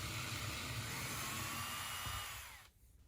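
A power drill runs steadily, backing a screw out of a wooden floor joist beneath a squeaky floor, a continuous whirring drone that winds down and stops near the end.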